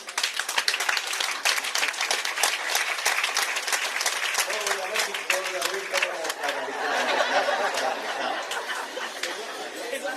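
An audience at a Sierra Leone hospital solar power event claps steadily for the health minister, a dense, sustained round of applause with chatter and a few chuckles mixed in.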